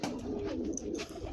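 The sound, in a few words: Belgian racing pigeons cooing in a loft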